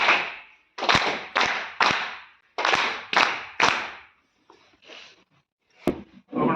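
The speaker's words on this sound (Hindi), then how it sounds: "तो सर के लिए एक बार स्पेशल ताली होनी चाहिए" A group of women at a dhoop and incense-stick training session in Pauri Garhwal gives a special round of applause for a guest, delivered as several short, sharp bursts of unison clapping, loud and close, with a few quieter claps between.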